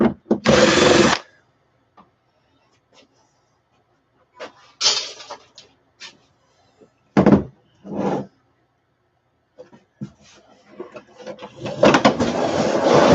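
Power drill driving screws in short bursts: a loud whirring run at the start, then several brief spins with quiet gaps and small clicks between, ending in a longer sustained run.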